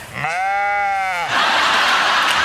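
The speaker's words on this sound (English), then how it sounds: "5 sheep have escaped and are running loose." A sheep bleats once, loud and close, with a long wavering cry about a second long, followed by a burst of broad rustling noise.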